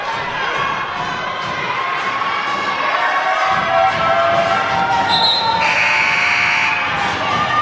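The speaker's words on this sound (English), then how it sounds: "The Ellenville crowd trying to rile up the team, make some noise" Crowd noise fills a gym at a varsity girls' basketball game in a close finish, with shouting and cheering from young fans and a sustained tone rising partway through, loud and continuous.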